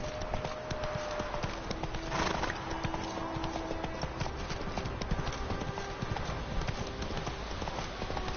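Steady clip-clop of Roach, a horse in a PlayStation 4 video game, galloping at a fast even rhythm for the whole stretch, with a brief whinny-like burst partway through and no talk over it.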